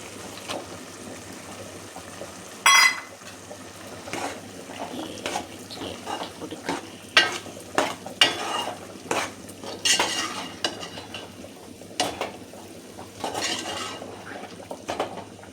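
Prawns tip into a pan of frying masala for a roast and get stirred, with clattering spoon-on-pan scrapes and clinks in irregular bursts over a soft sizzle, close and moderately loud.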